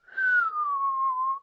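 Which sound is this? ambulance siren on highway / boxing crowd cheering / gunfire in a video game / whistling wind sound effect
whistling wind sound effect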